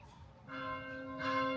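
A church bell at an old seaside church in Orebić, Croatia rings faintly from a distance, two soft resonant strikes with a sustained hum over outdoor background noise.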